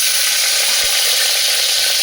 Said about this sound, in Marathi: हा कांदा जो स्वच्छ आपण धुवून घेतलेला आहे ना तो मी याच्यामध्ये आता टाकून तो तळून घेणार आहे